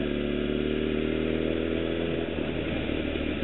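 A motorcycle engine drones steadily and fairly loudly as the rider leans the bike into a turn on the throttle, the tone holding even throughout with a slight flutter toward the end.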